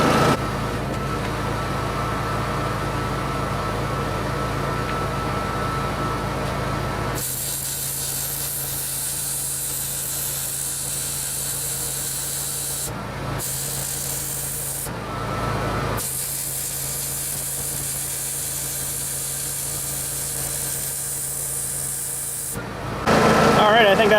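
A Miller 212 MIG welder runs off a 7k Honda generator, giving a steady hissing, crackling arc in long bursts with abrupt stops and restarts and a constant motor hum beneath. A voice speaks at times.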